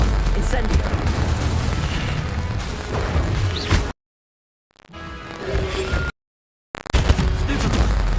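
Booming fiery blasts and crashing impacts from Incendio fire spells cast in Hogwarts Legacy, loud and dense in combat, broken by two abrupt silent gaps before the clamor resumes.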